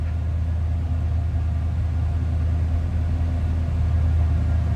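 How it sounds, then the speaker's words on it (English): A 1983 Chevrolet Monte Carlo SS with a 305 V8 idles with a steady, deep low rumble, close and constant, with no voices over it. "little rumble coming out of that 305 V8"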